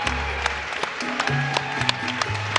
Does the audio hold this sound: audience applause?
yes